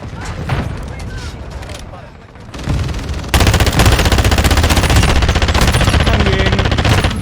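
Gunfire in Call of Duty: Modern Warfare II: scattered shots and bursts at first, a brief lull, then dense, continuous automatic fire with booming impacts that dominates the rest of the clip.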